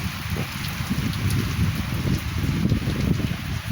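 Steady rain falls over farm fields in Una taluka, a dense, close hiss mixed with gusty, rumbling wind buffeting the microphone, continuous and fairly loud throughout, with no speech.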